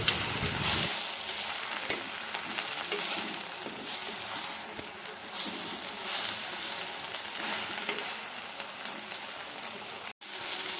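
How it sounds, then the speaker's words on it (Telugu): Tender tamarind leaves and chopped onions fry in hot oil with a steady, dense sizzle that crackles and pops throughout, close by and with no talking. "అదే ఆయిల్లో చింత చిగురు కూడా వేయించుకోవాలండి"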